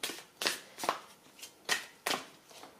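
Tarot cards being shuffled in a reading, a series of crisp riffling bursts about every half second, close and clear with no talk over them.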